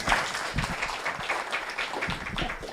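An audience applauding at a World AIDS Day commemoration launch, a dense, steady round of clapping from many hands that holds evenly throughout, fairly close and loud.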